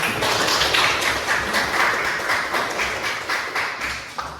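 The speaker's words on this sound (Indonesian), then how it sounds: "Nah, berikan tepuk tangan dulu." Students in an Indonesian classroom clap for a classmate, a dense, steady patter of many hands that fills the room, fairly loud and slowly easing off toward the end.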